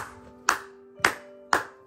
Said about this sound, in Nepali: ह्यापी बर्थडे ताली बजा